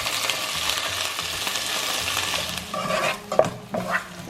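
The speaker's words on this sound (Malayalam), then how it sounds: "ഈ വെണ്ടയ്ക്കയും സവാളയും പച്ചമുളകും കൂടി ഇട്ട് നന്നായിട്ടൊന്ന് ഇളക്കി കൊടുക്കും." Okra, onion and green chili stirred in hot oil with mustard seeds and curry leaves give a dense, close sizzle, then scraping spoon strokes and a few clinks against the pan toward the end.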